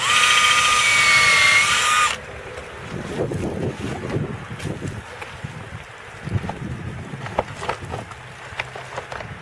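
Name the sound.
drilling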